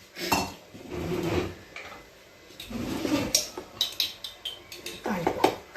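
A spoon stirs curry leaves and cilantro into a cooking pot, scraping and clinking against metal in quick, irregular taps at close range.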